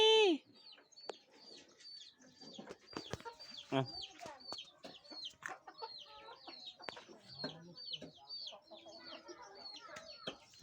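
Chickens cluck and chirp softly in scattered bursts, with a few sharper calls and some faint background noise throughout.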